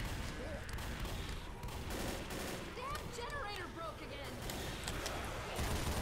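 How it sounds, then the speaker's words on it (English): Rapid sustained gunfire from a Gatling gun in the zombie shooter Left 4 Dead, a dense rattling stream of shots with faint voices underneath, distant and low in level. "Oh, we got the Gatling gun."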